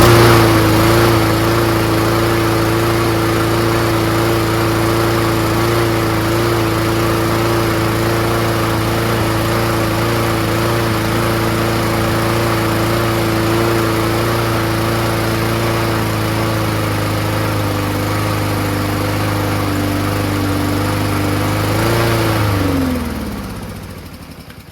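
Repaired lawn mower engine running steadily at high RPM, a loud close droning hum with stable pitch, then winding down and stopping near the end.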